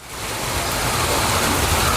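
Steady heavy rain, a dense continuous hiss of drops on surfaces that swells slightly and holds, with no voices.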